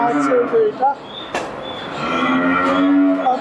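Dairy cows moo in long, low calls, one after another, close by on a dairy farm, with a voice talking over and between them.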